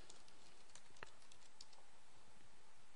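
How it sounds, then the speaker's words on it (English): Faint, sparse keyboard taps from typing into a search box on a computer, a few soft clicks over a steady hiss. "Type that into the search box."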